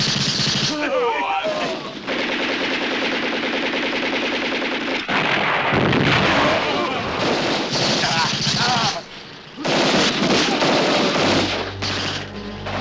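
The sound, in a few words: gunfire and artillery in war movie battle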